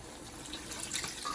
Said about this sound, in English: now I'm gonna add in my last set of water with the season.